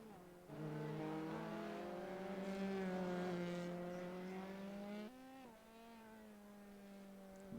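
A race car in a racing video game holds a loud, steady engine drone with rising and falling pitch as it accelerates and shifts, sounding alone without commentary.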